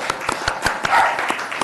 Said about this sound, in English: We'll give them a clap.